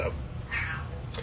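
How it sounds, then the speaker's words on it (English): A pet cat meows faintly in the background of a room while a person speaks a word nearby. "I don't know if you can hear in the background, my cat is going crazy"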